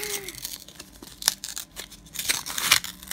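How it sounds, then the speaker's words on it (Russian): A plastic cosmetics packet is cut and torn open with scissors, giving sharp snips and crinkling rustles in an irregular, close sequence. "чтобы уже открыть этот пакетик по-нормальному"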